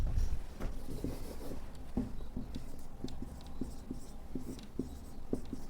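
A pen or marker writes numbers during a class 10 maths lesson on profit and loss, giving steady scratchy strokes in short bursts, close and moderately quiet, with no talking.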